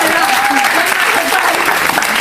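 An audience at a comedy and dance show applauds loudly and continuously, a dense close wash of clapping with a voice talking over it.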